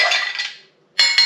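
Ice cubes tumbling into a cocktail mixing glass for a Sazerac, a bright clattering rattle that fades, a short pause, then two more sharp clinks close up.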